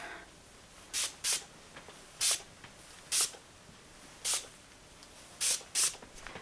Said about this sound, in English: So I'm just going to give it a good spritz all over.